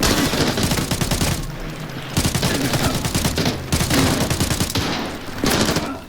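Rapid automatic gunfire in the video game Arena Breakout: Infinite rattles in long, loud bursts broken by brief pauses, the shots coming fast and dense throughout.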